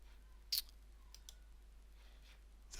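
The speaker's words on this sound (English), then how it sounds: "I'm going to shift and click to select all of the PDFs" Computer mouse clicks while selecting PDF and image files, a few sharp isolated clicks in a quiet room, one louder than the rest, with no talk.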